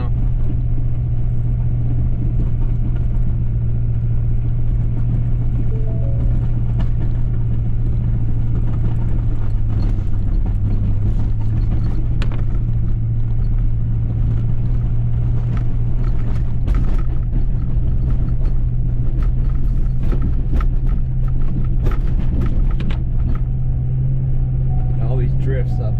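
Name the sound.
Ford Super Duty truck pushing through deep snow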